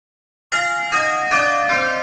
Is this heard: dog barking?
no